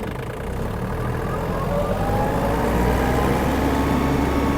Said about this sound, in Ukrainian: Трактор миттєво набирає свою максимальну швидкість